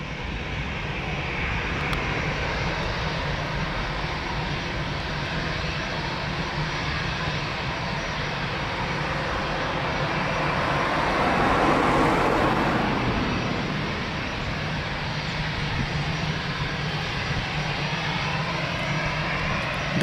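An airliner landing at Lisbon Airport gives a broad, continuous engine roar that swells gently toward the middle and eases off again, a steady mid-distance rumble with no talk over it.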